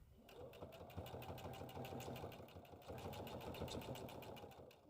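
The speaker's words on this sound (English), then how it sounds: "Let's take it to the machine and stitch on our straps." A sewing machine runs continuously at steady speed, stitching straps onto a tote bag, its rapid needle ticking a close, even hum throughout.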